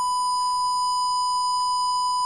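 A low-voltage alarm buzzer on a DumboRC brushed micro ESC with RC switch holds a steady, unbroken high-pitched electronic tone from start to finish, with no other sound.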